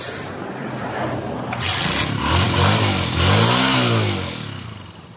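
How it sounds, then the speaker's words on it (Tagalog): A Honda TMX 125 Alpha motorcycle that had been misfiring and hard to start catches after a brief crank, then revs up and down twice in loud, close swells before settling back toward idle. "paandarin ulit natin si TMX 125"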